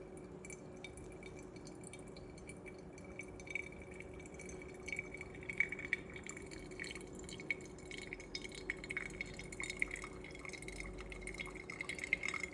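Quiet, steady dripping of pour-over coffee into a glass vessel, soft irregular drips over a faint background hum.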